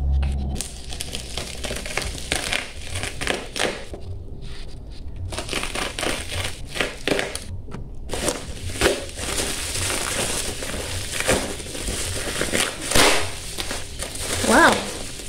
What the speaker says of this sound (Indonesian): Oke, sebelum kita review, mari kita unboxing